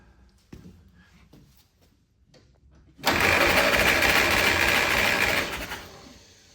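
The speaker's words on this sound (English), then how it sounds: "I wouldn't mind doing a compression test" A 1946 Willys CJ2a engine sits quiet at first under soft background noise, then cranks loudly on the starter for a compression test, a fast, even chugging that lasts about two and a half seconds before it stops.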